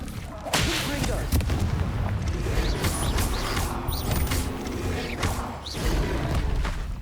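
Confringo explosive spell cast in the Hogwarts Legacy video game, a run of sharp whooshing bursts and crackling impacts over a dense, busy game-combat background, repeating at irregular intervals.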